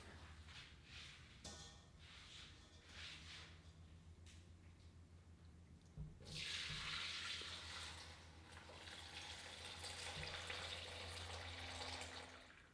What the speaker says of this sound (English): I'm going to strain directly into this bowl here.